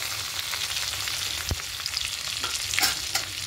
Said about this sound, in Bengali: এবার ফোড়নে দেব গোটা জিরে, 2 শুকনো লঙ্কা, 2 তেজপাতা আর সামান্য একটু হিং দেব।